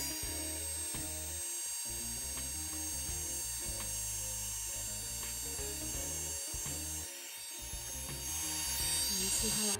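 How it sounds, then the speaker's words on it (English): A heat tool blows steadily to heat and lighten ink on a craft background, a continuous close whirring motor drone with a high whine and faint rattling throughout. "taking a heat tool, I'm going to heat this up"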